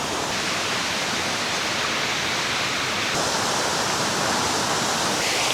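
Waterfall at Bato Puti in South Cotabato, the first of its falls, roaring as a steady, dense broadband rush that holds constant and close throughout with no voices.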